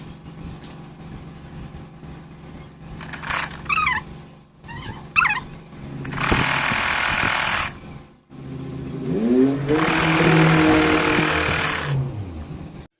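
A sewing machine stitching a blouse runs in two loud, steady whirring bursts, the second longer, with some scattered rattling and handling noises before them.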